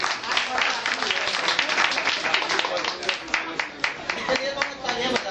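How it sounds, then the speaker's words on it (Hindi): Audience applause for members of a Geeta Society at a prize-giving, a steady dense clapping that runs the whole time with small swells, with voices mixed in underneath. "इन सभी गीता सोसाइटी के मेंबर के लिए जोरदार एक बार तालियां।"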